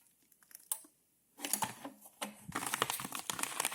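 An F-300 impulse bag sealer closing on a bag, giving sharp clicks and crinkling plastic with a rising run of clatter and rustle, fairly close and without talk.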